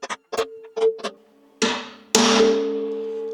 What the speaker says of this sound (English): So we'll center punch these now